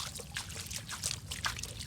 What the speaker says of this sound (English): I put some water.